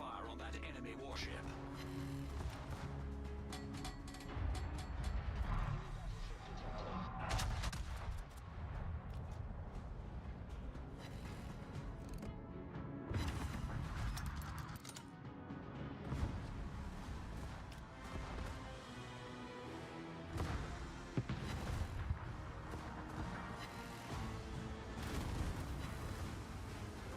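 Warship guns in a naval battle game fire repeatedly, heavy booms and crashes recurring across a dense, continuous battle din, with voices talking underneath.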